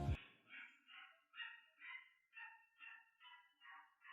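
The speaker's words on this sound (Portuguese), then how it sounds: "O cachorro tá revoltado" A dog barks in a steady run of about nine evenly spaced, fairly faint yapping barks, each short and bright, following a brief thump at the start.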